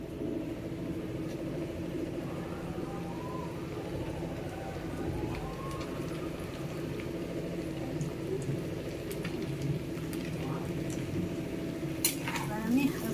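Chow mein being stirred with a spoon in a pan over rising heat, a steady close scraping and sizzling texture with a continuous low hum and occasional light clinks of the spoon, a voice talking faintly in the background.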